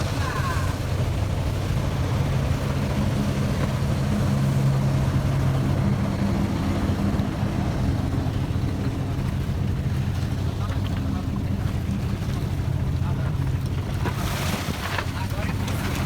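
A motorboat passing slowly by a sailboat at sea: steady engine drone and water wash with heavy wind buffeting on the microphone, continuous and fairly loud, with people talking over it.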